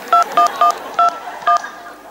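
Telephone keypad dialing tones: five crisp, loud DTMF beeps in a quick, uneven run as a number is punched in by hand, with faint background noise between presses.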